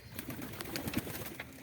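Domestic pigeons, Andha and Madrasi breeds kept at home, coo in low soft bursts, several overlapping murmurs close by with faint background noise and no talking.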